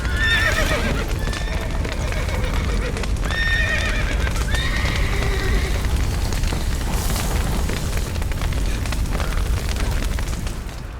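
Several horses whinny and neigh repeatedly in a Witcher 3 video game scene of a collapsing stable, over a heavy rumbling background of hooves and crashing noise, loud and close, with no talking.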